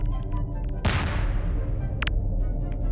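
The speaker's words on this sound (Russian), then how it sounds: "Взрывы, а? Слышишь?" A single heavy explosion booms out in the Garry's Mod video game, a sharp loud blast that rolls off into a fading rumble over a steady low game drone, followed by a faint click.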